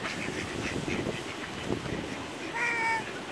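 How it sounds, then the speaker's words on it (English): Ducks quacking while being fed by people, several harsh quacks over steady outdoor background noise, fairly close. "Duck, quack, quack, quack."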